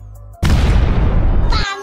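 A cartoon firecracker bursts inside a pipe: a sudden loud boom cuts in after a brief tonal lead-in, sustaining as a rough blast before a short high ringing tail.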